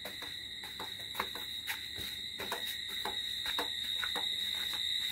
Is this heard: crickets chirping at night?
yes